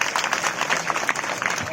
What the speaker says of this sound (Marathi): चला वा, टाळी वाजवा जोरदार